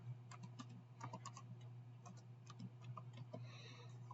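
Rapid keystrokes on a computer keyboard as a username and password are entered, irregular clicks close by over a steady low electrical hum, with no voices.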